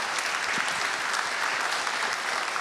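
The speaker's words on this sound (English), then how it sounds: "Nina, I'd like to give them a round of applause." Sustained applause from an audience at an annual congregational meeting, a steady dense patter of many hands clapping throughout with no voices on top.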